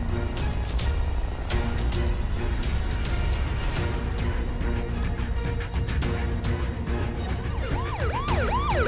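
A police car siren wails through loud, steady background noise, its rising and falling tone growing clearer and more prominent over the final seconds.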